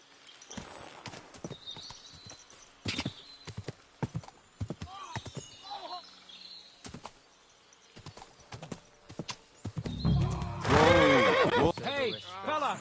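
Horse in the Kingdom Come Deliverance 2 game, with clip-clopping hooves running through and a loud, close whinny near the end, between short bursts of game speech.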